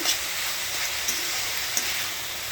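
Food frying in a pan during home cooking, heard as an even, hissy sizzle held close, with faint ticks and no voices.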